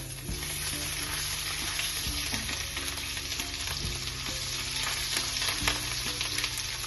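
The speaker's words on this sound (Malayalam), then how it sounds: "എണ്ണ ഒഴിച്ചിട്ട് ഫസ്റ്റ് ഇഞ്ചി, ഞാൻ എല്ലാത്തിനും ഫസ്റ്റ് ഇഞ്ചിയാണ്." Ginger sizzles steadily in hot oil in a home kitchen pan, a continuous close crackle with faint stirring ticks and no voices.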